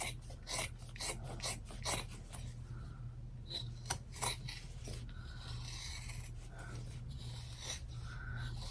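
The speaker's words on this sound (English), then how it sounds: "I'm just going to cut all this excess stuff off." Scissors trim excess material from a handmade clutch bag, giving close, repeated rasping snips, quick at first and then slower, over a steady low background hum.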